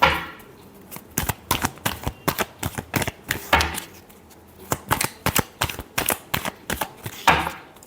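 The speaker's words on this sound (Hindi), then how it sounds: "last shuffle" Tarot cards being shuffled by hand, a run of crisp, rapid riffling snaps and slaps close up, alone without talk.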